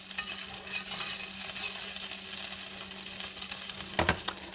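Flour is stirred into melted butter in a pan to start a brown gravy for smothered beef round steak, giving a soft steady sizzle with light scraping strokes and a brief clatter near the end.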